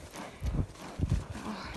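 A horse walks along a trail carrying a rider, its hooves clip-clopping in a steady, close rhythm of heavy thuds with a soft outdoor background.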